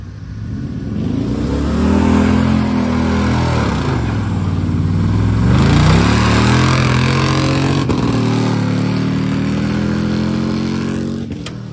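A rough CF-Moto off-road vehicle engine revs loudly nearby, pitch swelling and dipping in long pulls, a raspy exhaust droning for several seconds before easing off.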